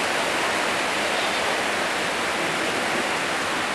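Steady heavy rain pouring down, likely running off a gutter near a room, forming a dense continuous hiss without breaks, loud and close with no voices.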